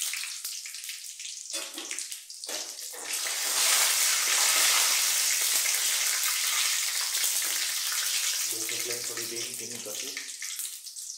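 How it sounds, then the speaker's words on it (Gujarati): Garlic sizzles in hot oil in a pan for a dish of fresh green chickpeas, giving a loud continuous frying hiss that swells midway, with a few stirring clatters and no voices. "તેલ ગરમ થઈ ગયું છે, હવે હું ઉમેરીશ લસણ. લસણને થોડું બ્રાઉન થવા દઈશું."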